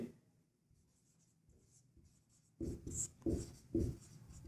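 A pen scratches across paper close up, writing a fraction by hand: faint light strokes at first, then louder, quick scratchy bursts of writing near the end, with no speech.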